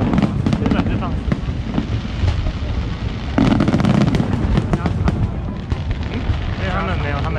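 Fireworks burst in rapid, dense succession at the Dadaocheng Wharf Valentine's Day show in Taipei, with crackling booms and whistles layered over one another and people talking in the crowd.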